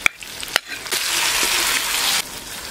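Garlic stirred into sautéed onions in a hot pan gives a steady, close sizzle, with a few sharp utensil clicks at the start.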